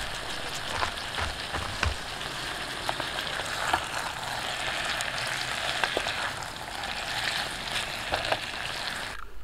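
Pieces of bacon frying in a pan, a soft, steady sizzle and crackle with occasional small pops, fairly quiet and continuous.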